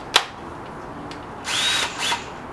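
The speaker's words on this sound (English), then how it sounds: "I'm going to use my wireless drill just to make things easier on myself" A cordless battery drill whirs in two short bursts, the first about half a second and the second briefer, with a faint click at the start and quiet between.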